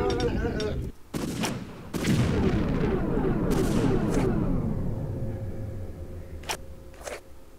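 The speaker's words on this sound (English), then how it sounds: "Oh, I can shoot him right there." Gunfire in Tomb Raider III rings out as a string of sharp, loud shots with booming echoes trailing after them, then a couple of isolated bangs near the end.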